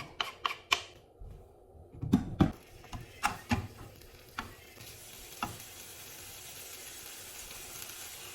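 Bacon cooking without oil in a pan, frying in its own fat. A soft, steady sizzle fills the background, broken early on by several sharp clinks and scrapes of a utensil against the pan before settling into a quieter, continuous hiss.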